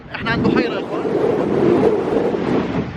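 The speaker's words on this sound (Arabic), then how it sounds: "جدا قوي الريح في هذا المكان مش طبيعي عن جد" Strong wind gusts blow hard across a lake near Kayseri, Turkey, a loud steady roar buffeting the microphone while someone talks over it at the start.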